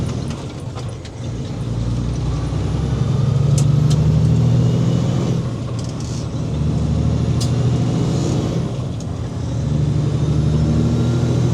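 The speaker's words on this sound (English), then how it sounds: "Got some Jake brake now." Truck engine with VGT and a Jake brake, a loud steady low engine drone heard from inside the cab, swelling and easing with a rough, throaty rumble and occasional clicks.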